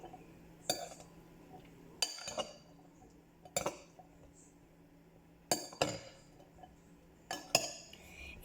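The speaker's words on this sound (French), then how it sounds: "On va venir mélanger un petit peu." A spoon strikes a dish as liquid crème fraîche is mixed in, making sharp, separate clinks every second or two with quiet scraping between them, close and fairly soft.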